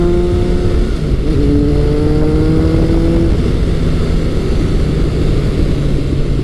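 A retro superbike, either a Honda CB1100 or a Kawasaki ZRX1100, ridden through corners: a loud, continuous engine roar close by, its pitch climbing and shifting as the rider works through the bends.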